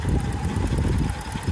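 Volkswagen Golf MK3 engine idling roughly with a stumble, a close, continuous low rumble with uneven knocking pulses and mechanical vibration throughout.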